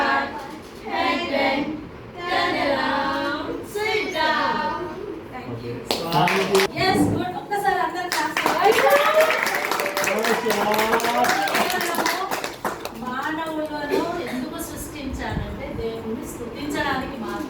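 Rhythmic hand clapping keeps time with voices singing children's action songs at a 10th birthday celebration, the claps loudest and densest through the middle stretch while the singing carries on throughout.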